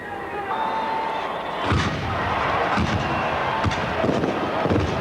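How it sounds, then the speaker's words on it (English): Fireworks at a stadium before a 1992 rugby league match in Brisbane, with several deep booming bursts going off at irregular intervals over a steady crowd roar. "Fireworks going off now, and plenty more to follow."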